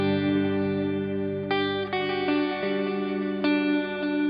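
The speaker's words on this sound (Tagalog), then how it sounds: "yung clean sound natin, inalis ko lang yung modulation, tapos nilagyan ko ng delay and reverb" Clean electric guitar run through a Tank-G hybrid effects unit with delay and reverb, sustained ringing chords with a few fresh strums whose repeats and long wash trail off, playing alone without talk.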